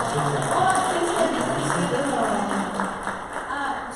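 Audience applause at a business speaking engagement in Lakewood, a dense steady clatter of many hands running the whole time beneath a speaking voice.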